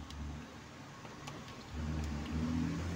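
An electric servo motor with an E5 error runs with a low, steady whir that grows a little louder partway through, faint and close, without speech.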